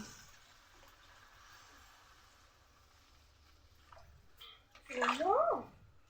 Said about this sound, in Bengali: জল ঢেলে দিই বাবা। জলটা হচ্ছে 1 বাটি চালে 2 বাটি জল